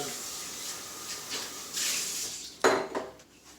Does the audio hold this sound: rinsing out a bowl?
yes